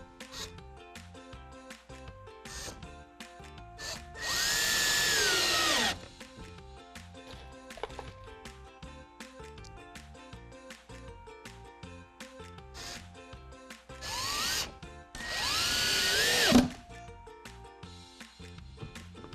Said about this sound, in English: you make your pilot holes, then you get your screws in.